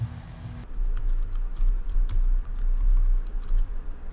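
Rapid typing on a computer keyboard while entering a new wallet name, a steady close run of uneven key clicks with no voices.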